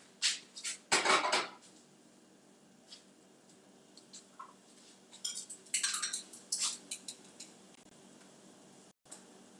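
A pot of boiling broth for egg drop soup is set back onto the stove with a few sharp metallic clanks and clinks, close and fairly quiet, followed by scattered lighter knocks.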